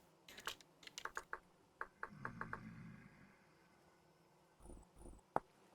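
Keys on a computer keyboard are tapped quickly in short bursts, close and quiet, while item names are typed in Vintage Story. Soft clicks and faint background noise follow.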